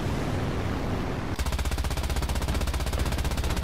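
Aircraft machine gun in a flight combat game, opening after a moment of engine roar into a rapid, steady stream of loud close shots.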